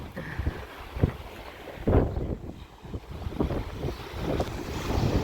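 Small sea waves lapping the shore at Odesa, soft rushing washes rising and falling every second or so with wind buffeting the microphone, near and fairly quiet.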